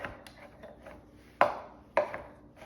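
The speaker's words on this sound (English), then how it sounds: "the 2 cups of mushrooms and just, you know, rough chop them" A kitchen knife rough-chops mushrooms on a cutting board: two sharp, distinct chopping thuds stand out over soft, quieter knife scrapes and taps, close up with no talk.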